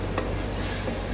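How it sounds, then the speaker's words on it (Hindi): Whole spices such as cumin, coriander and whole chillies are stirred in a hot cooking pot, giving a continuous close sizzle with a light scraping stroke of the spoon. "मिक्स करते हैं"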